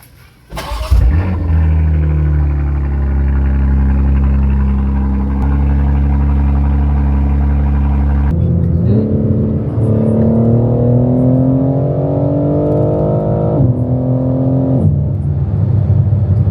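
A sports car engine starts with a loud burst, then idles with a deep, rumbling exhaust note before revving upward in rising, aggressive sweeps with the active exhaust opened.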